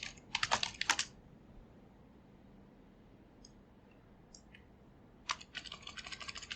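Keys on a computer keyboard clatter in a quick burst of several presses, then fall quiet apart from a few faint clicks, before another rapid run of typing near the end.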